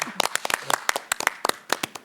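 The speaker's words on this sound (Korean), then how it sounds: "서로를 쳐다보면 한번 박수 한번 치시면 어떨까요?" A handful of people clap at a 2022 South Korean presidential candidates' televised debate. The claps are sparse and uneven, sharp and fairly close, in a quiet studio.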